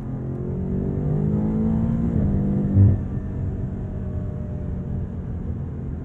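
An 882 HP tuned BMW M8 Competition coupe accelerating hard in sport mode, a deep, loud engine drone rising steadily with a brief shift bump midway, heard from inside the car.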